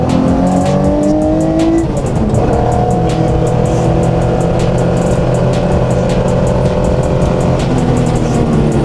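A 1974 Porsche 911S accelerates hard on a track, its engine revving loud and continuous and climbing through the gears with steady rising tones.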